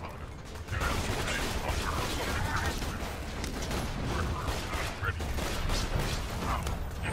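Rapid bursts of gunfire in Borderlands 2 on Xbox One rattle repeatedly amid game effects and continuous mechanical clatter, fairly loud, with someone talking intermittently over the action.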